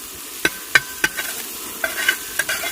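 Spices frying in hot oil in a pan for a wedding-style mutton kuruma, a steady sizzle broken by several sharp stirring scrapes and clinks spaced about every half second, fairly close and with no voices.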